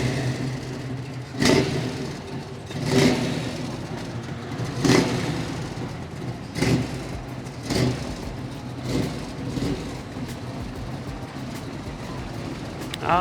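A 1979 Jeep CJ7 with a small block Chevy V8 idling and running, its steady engine rumble broken by several loud periodic revs and bursts, close by with no talk.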